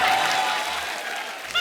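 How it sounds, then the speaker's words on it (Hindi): Studio audience applause on a Kapil Sharma comedy TV show, a dense steady burst greeting a guest called to the stage, fairly loud and close, easing slightly before a brief swell at the end. "तो आप सबकी जोरदार तालियों के बीच में बुलाना चाहूंगा।"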